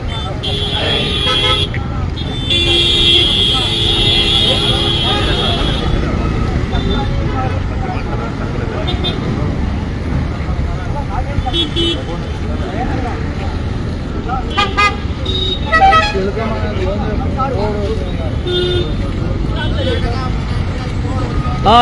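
A police vehicle pulls into busy street traffic during a roadside confrontation over a misused government vehicle, with loud sustained horn toots in the first few seconds over a steady engine and traffic rumble, and a crowd's voices talking throughout.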